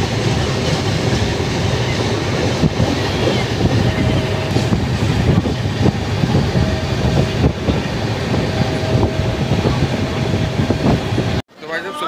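A train passes through a railway junction in the West Central Railway zone, steady, loud rolling rumble and wheel noise throughout, with faint voices underneath, cutting off sharply near the end.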